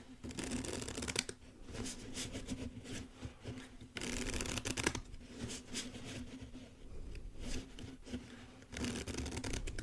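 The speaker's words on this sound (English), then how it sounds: "we'll give the deck more shuffles" Playing cards being shuffled repeatedly, crisp riffling bursts separated by brief pauses, close to the microphone with no talking.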